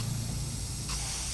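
An aerosol spray paint can held upside down is sprayed in a steady hiss to purge the nozzle, with no voices.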